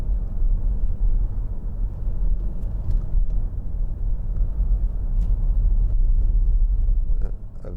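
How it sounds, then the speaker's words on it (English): A van passes very close alongside a 2012 Jaguar XF 2.2 TD Premium Luxury, a loud, steady low rumble of road and engine noise throughout with no one speaking. "A van driving very close to me"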